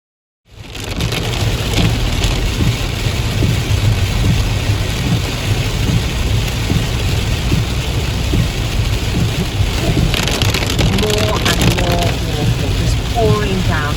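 Heavy rain pouring down, a loud dense continuous downpour with rumbling undertones, starting abruptly and holding steady, with brief faint voices near the end.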